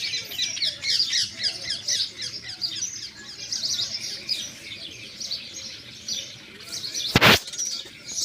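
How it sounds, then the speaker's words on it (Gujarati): A dense flock of pigeons chatters and squawks continuously, with a sudden burst of flapping near the end. "જોઈ શકો છો કબૂતરને"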